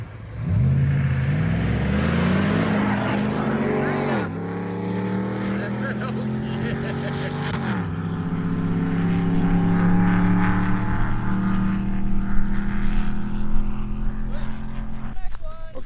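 Several Nissan Patrol trucks race off-road, engines revving loud and close with rising and falling pitch through repeated gear changes, a sustained roaring drone, under occasional voices.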